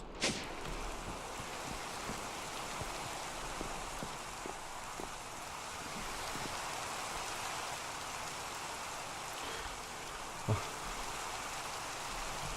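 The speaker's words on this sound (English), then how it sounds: "Come on, rain, go away." Steady rain in the Minecraft modpack FTB Sky Factory 3 forms a continuous broadband hiss with scattered droplet ticks. It plays alone at moderate level for the whole stretch, with no talking.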